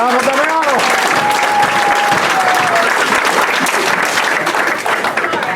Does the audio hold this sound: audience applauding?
yes